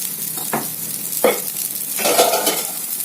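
Oil sizzles steadily in a pan for cooking eggs, a constant hiss broken by three brief scraping stirs, close and fairly loud, with no talking.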